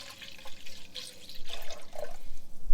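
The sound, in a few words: pouring milk into a pot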